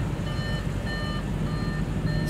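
Evenly spaced electronic reversing beeps, about four in two seconds, chime as a 2015 Audi RS5 backs up, heard over a low steady outdoor rumble.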